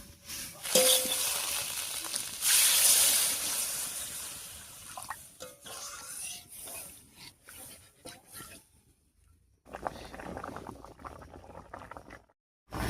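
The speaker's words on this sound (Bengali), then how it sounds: "রান্নায় বলক উঠে গেছে।" Fish curry broth with potato and pointed gourd comes to a boil in a pot, a soft bubbling and sizzling hiss that rises and falls with brief clinks, fairly quiet and close, dropping away near the end.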